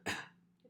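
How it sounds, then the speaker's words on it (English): A single short voluntary cough during a swallowing assessment, sharp and close, fading quickly into quiet. "So I want to see if you can cough."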